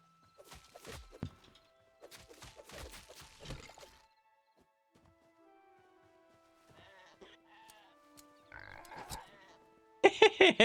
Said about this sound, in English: It is a sheep.